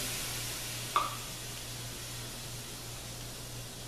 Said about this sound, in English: take the rest of this Worcestershire sauce and just pour it in. It's sizzling.